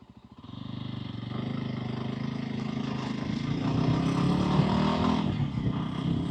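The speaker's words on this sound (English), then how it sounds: "Now we'll try setting off in second to see if it's still got that low gear" A Voge 300 Rally motorcycle pulls away in second gear, the engine rising from idle into a sustained, gradually building drone with a slight strain as it gathers speed.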